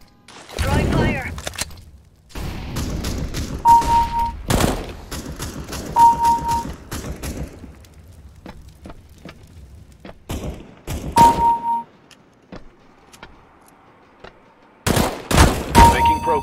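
Gunfire in CS:GO, bursts of rapid shots and heavy thuds coming in clusters with quiet gaps between them, mixed with short electronic beeps and game voice lines.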